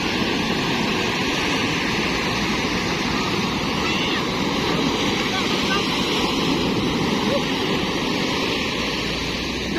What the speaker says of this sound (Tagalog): Papa Jesus Mero Joseph sa lalaki ng alon.